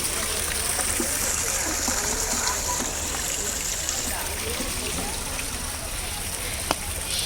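Natural stream water flowing at Chilakala Gutta, a steady close rushing and trickling wash that runs throughout with faint background voices.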